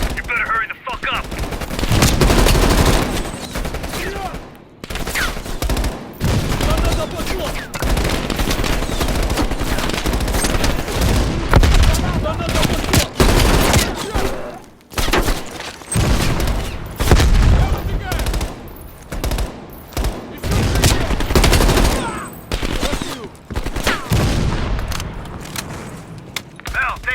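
Sustained machine gun fire in a Call of Duty Black Ops Cold War battle, loud bursts repeating almost continuously over heavy combat noise, with a voice giving orders over the shooting.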